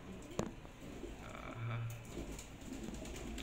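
Pigeons in a racing pigeon loft give soft, low throaty coos, one clear drawn-out coo standing out against a quiet background with faint rustling and other bird sounds nearby.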